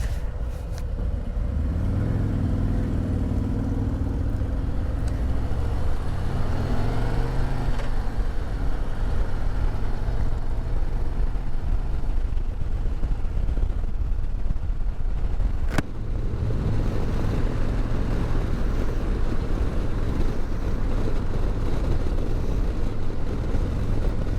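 A 2024 Harley-Davidson Road Glide motorcycle rides through busy lunchtime traffic, its engine a loud, continuous low rumble with wind rush that holds steady and shifts slightly in pitch through gear changes, heard close up.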